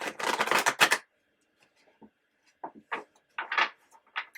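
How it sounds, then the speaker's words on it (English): Cards shuffled on a table: a dense run of quick riffling flutters, then a pause and several shorter bursts of shuffling and tapping, close and fairly loud with no voices. "Trying to give these good shuffles."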